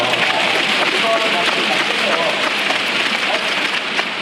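Steady rain falls throughout during an outdoor concert in Seoul, a dense continuous hiss of drops with faint crowd and stage sound mixed in.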